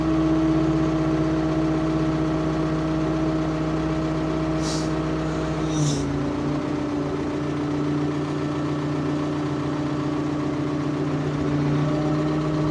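A Ford P-42 excavator engine idles with a steady low hum and tonal drone, nearby and continuous, shifting pitch slightly partway through.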